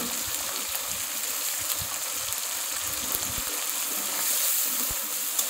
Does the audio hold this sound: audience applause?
no